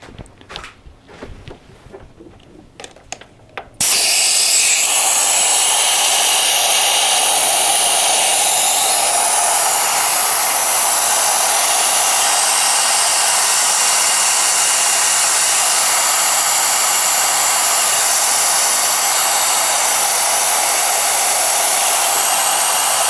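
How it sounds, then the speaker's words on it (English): A compressed-air vacuum tool hooked to the cooling system of a 2017 VW Jetta GLI hisses loudly and steadily after a quieter opening, holding a constant, close rushing tone to the end. "We'll hook air to it until it pulls down a vacuum over here"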